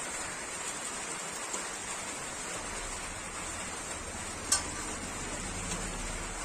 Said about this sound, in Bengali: বৃষ্টি হচ্ছে প্রচন্ড